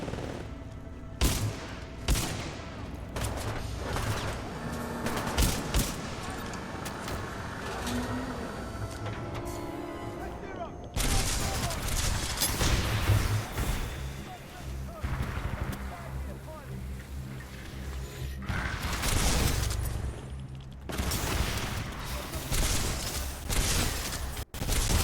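Shotgun fire in Titanfall 2, heard as repeated loud, sharp blasts in irregular bursts amid game noise and wind-like rushing, with voices talking over parts of it.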